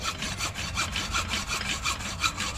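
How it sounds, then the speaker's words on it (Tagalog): A hand saw cuts through wood in steady back-and-forth strokes, a rhythmic rasping repeated roughly every quarter second, close and continuous. "Lagari ito lang talaga."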